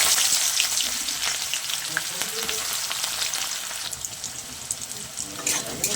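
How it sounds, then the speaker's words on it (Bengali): Chopped onion and green chili hitting hot oil left from frying prawns, a loud dense sizzle up close that eases slightly over a few seconds, with faint watery crackle and no talk. "মাছ ভাজা তেলের মধ্যে এবার দিয়ে দেবো পেঁয়াজ কুচি আর লঙ্কা কুচি"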